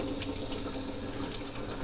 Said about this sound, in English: Got it dumping out of the relief valve here.